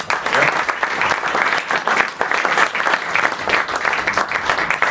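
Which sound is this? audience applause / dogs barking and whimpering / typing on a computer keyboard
audience applause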